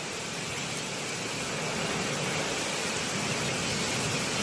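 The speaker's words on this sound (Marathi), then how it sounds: "जोरदार असं पाऊस चालू झालेला असा" Heavy monsoon rain pours down in a dense, steady hiss, loud and constant with no gaps and no voices.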